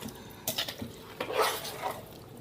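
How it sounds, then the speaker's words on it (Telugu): A mango pickle mixture with oil stirred by hand in a container, a couple of short wet scraping and sloshing strokes at close range in a quiet room. "ఇలాగా ఒకేసారి బాగా కలిపేసుకుంటే ఆయిల్ ఈ మాత్రం ఉండాలండి"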